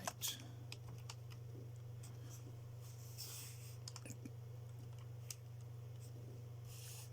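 Typing on a computer keyboard during a quick Google search, heard as faint scattered key clicks over a steady low hum, fairly quiet and without speech.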